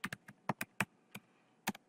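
Computer keyboard typing, a few sparse, quiet clicks in an irregular rhythm, close by and alone in an otherwise silent room.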